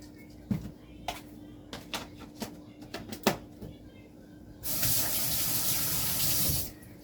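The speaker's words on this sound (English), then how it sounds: "Wash my hands." Water from a kitchen tap runs steadily for about two seconds while hands are washed, coming after a few soft clicks and knocks, close and fairly loud.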